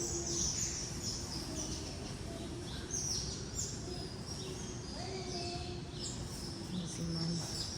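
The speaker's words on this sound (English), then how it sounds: "Look at all these birds up here in the tree. We're at the tree zoo. In the bird exhibit." Many birds chirp and call continuously from the trees of a bird exhibit at the Detroit Zoo, a dense overlapping chorus with a steady low hum of background noise.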